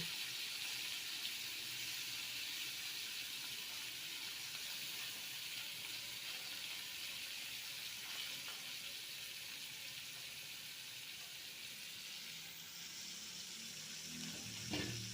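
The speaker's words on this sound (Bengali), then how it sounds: "এবারে তেলের মধ্যে সমস্ত মাছটা আমি দিয়ে দিচ্ছি" Small mourola fish fry in hot oil in a pan, giving a steady, even, hissing sizzle that holds without a break throughout at a low, constant level.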